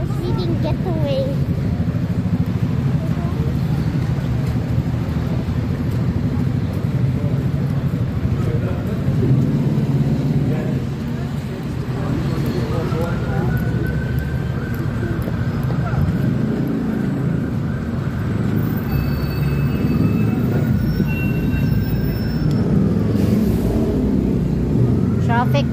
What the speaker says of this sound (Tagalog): Traffic, yeah, there is London, guys.